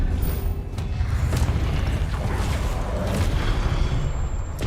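Spell blasts from combat in the Hogwarts Legacy video game, a dense run of booming bursts and rumbling impacts filling the whole stretch at steady loudness, with no clear talk.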